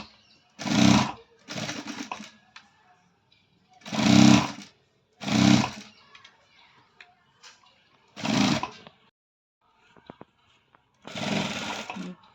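Sewing machine stitching a folded seam on a low-neck princess-cut blouse, running in five or six short bursts of rapid whirring with quiet pauses between them.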